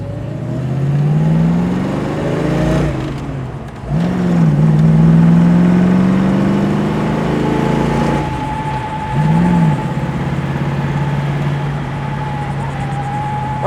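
A 1966 Ford Mustang convertible accelerates on the road, its engine note climbing steadily through several gear changes. The loud, close drone falls briefly at each shift before rising again.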